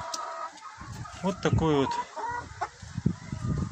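A Black Copper Marans rooster and his hens cluck nearby in short bursts, with one drawn-out call in the middle; someone speaks briefly over them.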